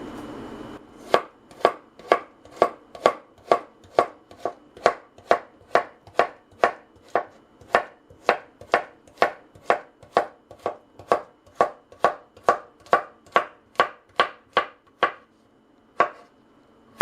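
A knife chops two small cucumbers on a cutting board for a cabbage salad, giving about thirty crisp, evenly spaced strikes at a steady rhythm, close and clear.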